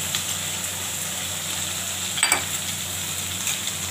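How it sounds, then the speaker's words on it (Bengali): Onions with ginger paste, garlic paste and cumin frying in a pan, heard as a steady, close sizzle with a brief spoon scrape partway through. "পেঁয়াজটা লাল লাল করে ভেজে নেব।"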